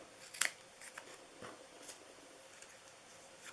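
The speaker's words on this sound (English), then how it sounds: "I want to cut these to size" Scissors cutting paper pieces to size for a Halloween door hanger, with a sharp close snip near the start followed by a few fainter snips and rustles in a quiet room.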